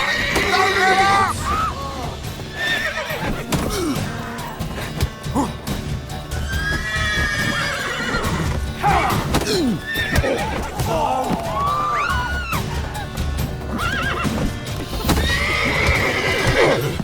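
Horses in The Witcher 3 video game whinny repeatedly and loudly while hooves clip-clop underneath, mixed with game voices and busy background noise throughout.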